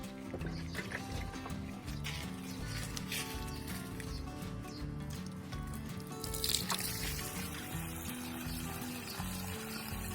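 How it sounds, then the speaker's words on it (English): Water sloshes and gurgles inside a car's rear door like a half-full water cooler jug, faint and continuous with soft irregular patters and drips over about ten seconds. "My rear door sounds like a half-full water cooler jug."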